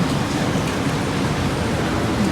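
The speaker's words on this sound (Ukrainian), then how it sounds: "На дворі знов дощ, десь світить сонечко." Steady rain falls outdoors, a continuous even hiss that holds at the same loudness throughout with no voices.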